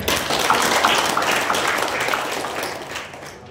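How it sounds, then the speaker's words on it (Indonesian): An audience applauds in a dense, steady wash of clapping that starts full and gradually tapers off toward the end, with no talking over it. "Tepuk tangan."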